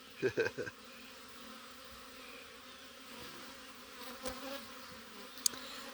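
Honey bees buzz faintly at an open teaching hive of a beekeepers association. A few louder bursts of handling or buzzing come at the start, and the buzz then settles into a soft, steady drone.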